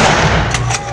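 Celebratory gunfire shot into the air at a wedding in Gwalior; a quick pair of sharp cracks over a loud rumbling crowd and background din, close and brief.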